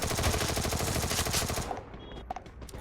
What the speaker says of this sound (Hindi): मैंने भी फिर उसको भर दिया MP40 से